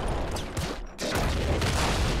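Lightning cannon fire in Nuclear Throne, a sustained crackling, buzzing electrical roar that fills the clip, dips briefly near the middle, then surges back loud and dense.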